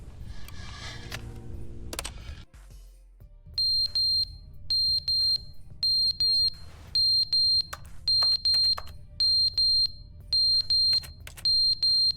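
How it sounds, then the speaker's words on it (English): A smoke alarm in the game The Stanley Parable: Ultra Deluxe gives about nine regular high-pitched electronic beeps, each short and evenly spaced, after a brief burst of other game sound at the start. "Wonder what the average lifespan of that type of smoke alarm is."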